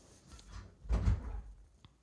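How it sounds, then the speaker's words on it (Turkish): A door opening or closing in a room nearby: a single dull, muffled thump-like swell in the middle, moderately faint, followed by a tiny click. "Orada bir kapı sesi geldi"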